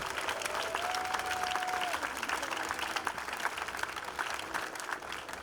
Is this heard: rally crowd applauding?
yes